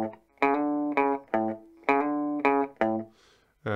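Rockabilly bass run variation on guitar: a string of about seven clean, plucked low notes in a steady bouncing rhythm, close and clear, with no talking.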